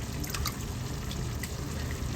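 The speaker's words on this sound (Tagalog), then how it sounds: "Ang paghugas, paglinis ng kabote." Water trickles and drips steadily in a bowl where wild mushrooms are being washed, a soft continuous wet splashing close by with no talking.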